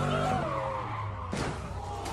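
Video game car sounds from a wrecked Infiniti G37: a droning engine and tire screech, then an abrupt harsh impact noise, loud and close.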